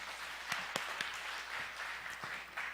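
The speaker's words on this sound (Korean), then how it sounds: "우리 박수 한번 쳐주세요." A church congregation claps during a Korean Sunday sermon, a fairly quiet, loose patter of hands with a few sharper individual claps standing out, no voices over it.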